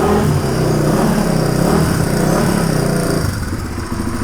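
A motorcycle engine running on its original CDI box idles close and loud with a steady, smooth rumble, no backfires or pops breaking the even tone.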